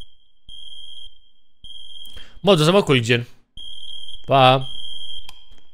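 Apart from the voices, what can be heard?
fire alarm beeping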